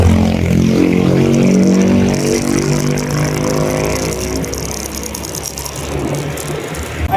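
A vehicle pulls away on a rice delivery run, its engine a loud, steady mechanical drone with rattling close by that eases slightly as it drives off, with no talk over it.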